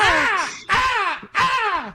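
A person imitates a crow's caw three times in even succession, each a loud, harsh, descending nasal call close to the microphone with short gaps between.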